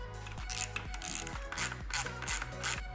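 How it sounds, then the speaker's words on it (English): A ratchet wrench drives two 10 mm bolts into the headlight bracket of a Yamaha TW200 motorcycle, a close, quiet, steady clicking run of rapid pawl strokes with no speech. "Now go ahead and install the two 10 millimeter bolts on either side."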